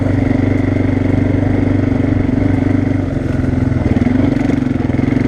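An ATV quad engine chugs steadily in low gear on a dirt trail, a loud, close, even mechanical rumble with a slight rise in revs near the end and no talking.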